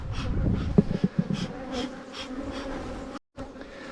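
Honey bees drone around an open two-week-old nucleus hive during a November hive inspection, a close, continuous buzzing with a few louder passes near the start and a brief silent gap near the end.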